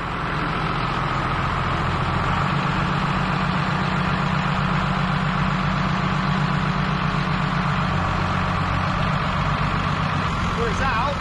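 A tractor engine idles steadily on a farm, a constant low, throbbing drone that runs unbroken from start to finish while people talk nearby.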